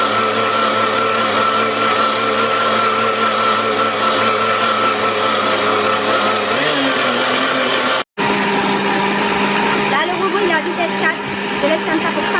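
A stand mixer kneads pizza dough with a steady motor whir that runs on for several seconds, stops briefly, then starts again.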